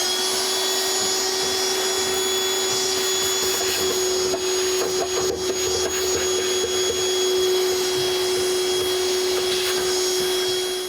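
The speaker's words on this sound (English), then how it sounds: "turn the vacuum on" A vacuum cleaner cleans out a clothes dryer, running steadily throughout with a loud, constant motor whine and a strong hum, with some rattling suction noise midway.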